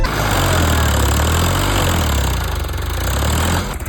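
A farm tractor stuck in mud runs its engine hard, a loud, steady diesel drone with a deep low rumble that holds for nearly four seconds before easing slightly at the end.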